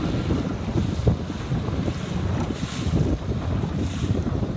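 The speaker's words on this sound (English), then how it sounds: "Solid breeze now" A steady breeze blows across the microphone during a Sabot sailboat race at the 2021 Sabot Nationals, a constant low rumbling wind roar with faint water wash and no voices.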